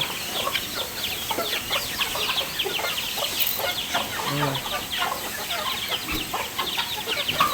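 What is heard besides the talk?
chickens clucking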